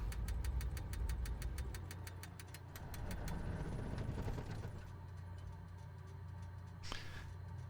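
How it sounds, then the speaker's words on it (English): Twin engines of a Cessna 414 in a flight simulator run with a steady rumble and knock, then wind down and fade over several seconds. A brief sharp sweep follows near the end. "Shut those engines down."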